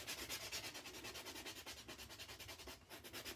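A nail buffer rubs back and forth over dip-powder nails with a soft, rhythmic scratching, quiet and close, in quick regular strokes with no talk.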